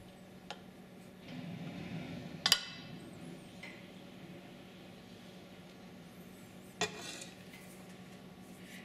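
Utensils clink a few times against a plate while rice is spooned beside tocino, with sharp isolated taps near the start and again later over a quiet room hum.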